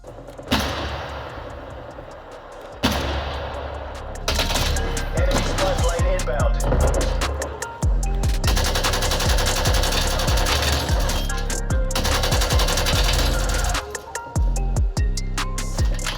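Pistol shots in a game played on a Sony PlayStation 5 crack out as repeated sharp bangs. They come amid dense, busy in-game action noise, and some thuds and pauses break up the sequence.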